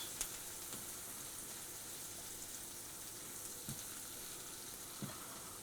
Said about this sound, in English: our mushrooms, and we're going to saute these for a few minutes.